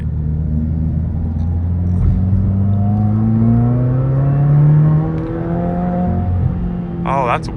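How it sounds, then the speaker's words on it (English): A 2021 Subaru WRX engine drones from inside the cabin, pitch sweeping up and down through a downshift, a loud steady rumble with someone speaking briefly over it. "That was a decent downshift."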